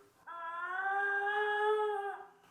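A single long, deep howl, held steady for about two seconds before tapering off, made by a diaphragm call imitating a coyote.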